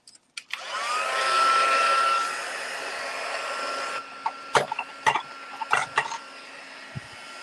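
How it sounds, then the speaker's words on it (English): Heat gun starting up and blowing with a steady, airy whine that runs for several seconds, then carries on more quietly beneath a few knocks and taps. "let's get the heat gun going"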